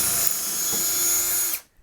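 Power drill running steadily on a block of wood, a loud high whine held for about a second and a half before stopping abruptly.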